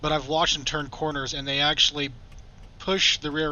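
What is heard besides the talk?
No distinct noise like a dog, phone or traffic.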